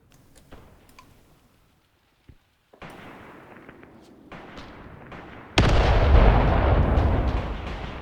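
Artillery shells explode in the war game Graviteam Tactics: a few sharp distant thuds first, then a heavy, loud blast that rumbles on and slowly fades.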